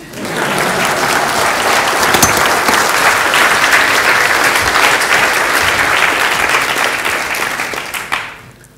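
A lecture audience breaks into sustained applause after a demonstration of an ultrafast pulsed laser, steady and dense for about eight seconds before tapering off abruptly.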